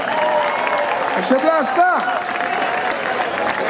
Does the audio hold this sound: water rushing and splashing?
no